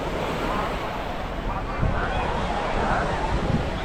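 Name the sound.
sea waves on shore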